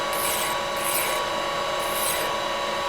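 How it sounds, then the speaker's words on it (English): A hand file strokes across a workpiece in a machine shop, three rhythmic rasping passes, close and clear. "As you're filing, your file can get dirty."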